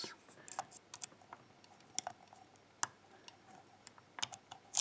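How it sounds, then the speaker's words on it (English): A SUPRA-C lock box being picked closed gives a few sharp, faint mechanical clicks among small scattered ticks of handling, close up and quiet. "So one little click here"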